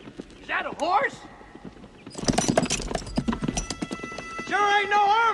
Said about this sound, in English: Hey, you guys hear that? Is that a horse?